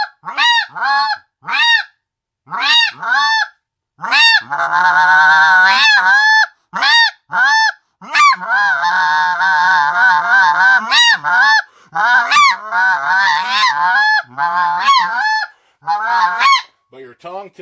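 Repeated snow goose calls blown on a Triad Killer goose call, a rapid run of sharp high honks and yelps mixed with longer, softer moaning tones, loud and close with brief pauses between bursts.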